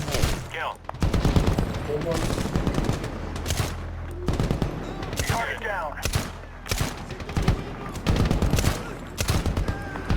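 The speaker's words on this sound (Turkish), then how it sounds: "Yok çok tepiyor ya silah. Silah tarama imkansız yani." Dense machine gun spraying in a Medal of Honor (2010) PC war game: repeated loud bursts and clustered shots with short gaps, with battle noise and a voice talking now and then.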